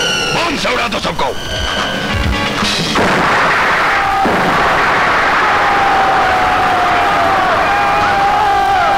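Loud booms and rumbling blasts from bomb explosions in a 90s Hindi action film, with crowd shouting and a voice over the start, then a sustained roar of debris and a falling whistle-like tone.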